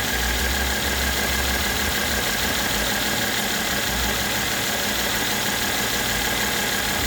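A 2014 Mercedes-Benz ML350 engine idles with ignition coil number 4 unplugged, a steady, even, close-up hum with a low throb running unchanged throughout, with no voices.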